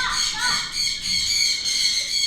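Birds squawk loudly and continuously outside, a harsh rasping chorus that keeps going in overlapping waves.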